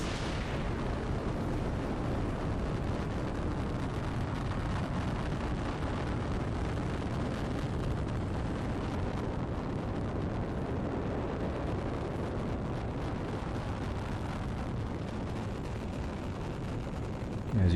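Rocket launch in a space simulator game, a loud dense roaring rumble that holds steadily for its whole length, broad and unbroken.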